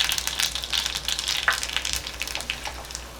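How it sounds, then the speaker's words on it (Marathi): Mustard seeds, cumin and asafoetida crackle and sizzle in hot oil for tempering, with quick popping spatters over a steady hiss, close and fairly loud. "एक फोडणी करून घेऊ आपण"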